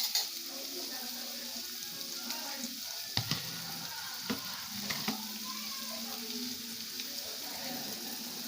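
Onions fry in oil in a kadhai, giving a steady bright sizzle while being stirred, with a few sharp knocks of the spoon against the pan partway through.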